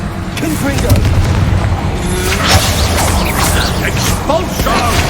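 In the Hogwarts Legacy video game, a fiery Confringo spell explodes in a busy battle, heard as a loud crackling burst and boom amid continuous combat noise.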